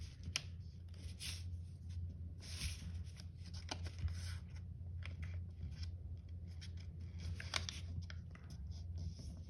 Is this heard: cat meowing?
no